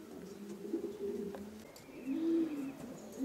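Adult pigeons in a breeder's aviary coo nearby in soft, low, rolling calls, one voice rising louder near the end, alone without talk.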